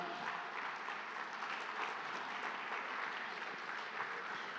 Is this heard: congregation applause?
yes